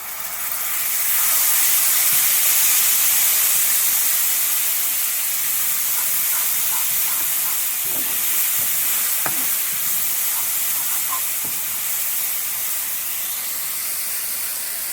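Cashew nut paste goes into a pan of frying spice masala for hilsa rejala, producing a loud, steady hissing sizzle that swells at first and then holds, with faint clinks of stirring.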